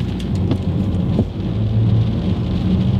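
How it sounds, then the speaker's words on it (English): Heavy rain pours down outside in a loud, dense, unbroken wash that holds steady from start to finish. "it's absolutely raining, absolutely pissing it down"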